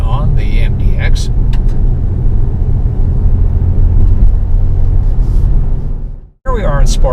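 Inside a 2022 Acura MDX three-row SUV pushed through a curve in sport mode, a loud, steady engine and road rumble fills the cabin, briefly cuts out, then a voice comes in at the end.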